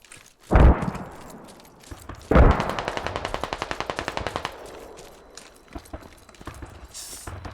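Machine gun fire in the military shooter game Squad: two heavy bursts open with booming impacts, then a steady rapid rattle of automatic rounds fades into scattered distant shots.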